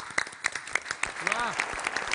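An audience claps for the Vidarbha warriors in a short, scattered burst of applause with distinct individual claps. Some voices and whistle-like tones mix in.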